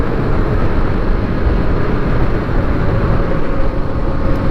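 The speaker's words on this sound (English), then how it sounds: "The engine doesn't sound that good going at this speed." Engine of a 2021 Kawasaki KLX300 dual sport motorcycle while riding, a steady, loud, broadband drone with wind rush and no clear change in pitch throughout.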